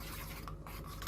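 Ingredients with olive oil are stirred together in a bowl for a fish and vegetable dish, brief close rubbing and scraping strokes in a quick rhythm.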